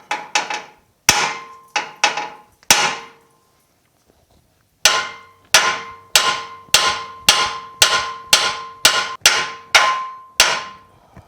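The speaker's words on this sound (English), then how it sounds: "that's pretty stout steel, so that ball peen hammer wasn't very big" A small ball peen hammer strikes stout steel on a 1965 Chevrolet Malibu SS front suspension, sharp ringing clangs: a few quick hits, a short pause, then a steady run of about a dozen blows.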